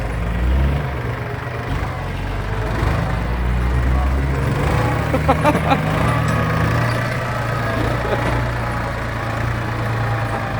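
Heavy tractor engine drones and rumbles nearby while it shoves and spreads dirt on a tight earth-fill site, with murmured voices faintly mixed under the steady motor.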